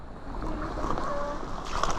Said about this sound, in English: we got a river going through here